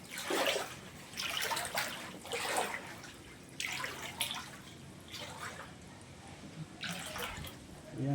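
Deep floodwater after heavy rain, churning and sloshing in repeated surging bursts, fairly close and continuous with no one speaking.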